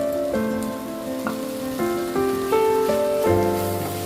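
Fried shrimp tipped into a pan of oyster mushrooms for a Chinese-style dish, giving a steady hiss of sizzling beneath louder tonal background music, with no talking.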